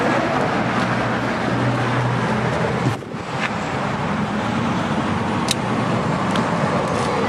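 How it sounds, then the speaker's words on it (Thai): A 2015 Ford Ranger Wildtrak 2.2 automatic 4WD pickup's engine running after start-up, a steady close rumbling drone with a brief dip midway, no talk. "รถสตาร์แล้ว ทุกอย่างขึ้นหน้าจอหมดเลย สตาร์แล้ว มาฟังเสียงเครื่องกันเลยครับ"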